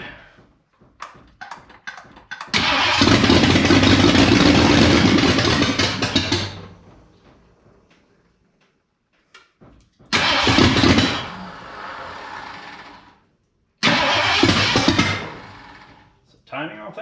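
A Ford 302 V8 in a Dentside Ford truck cranks and fires, then runs loud and rough for a few seconds before dying. It is restarted twice more in short, loud bursts, and people talk briefly in between.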